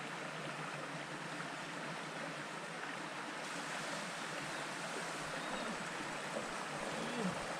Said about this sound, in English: And there's the flow of the water.